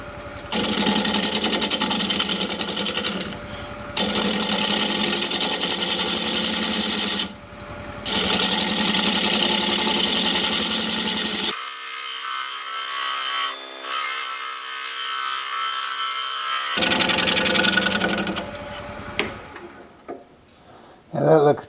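Pfitzer juniper wood being turned on a lathe as the base is thinned, a close, loud scraping whir of the tool on spinning wood in repeated bursts, broken by short pauses and a stretch of quieter motor hum.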